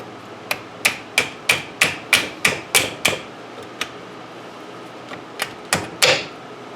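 A brake pad being knocked out of the front brake of a 2007 Honda Accord, a run of about nine sharp, evenly spaced metallic hammer blows, then a pause and a few more strikes, close and loud.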